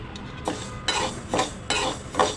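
Whole urad dal roasting dry in a pan for thalipeeth bhajani flour, stirred with a spatula in four regular scraping sweeps that rattle the grains against the metal.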